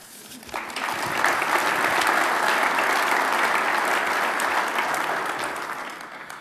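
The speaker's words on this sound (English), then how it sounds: "And we can start right now with another round of applause." A convention audience gives a round of applause at an aviation association chairman's address, clapping swelling in quickly, holding steady and full for several seconds, then easing slightly toward the end.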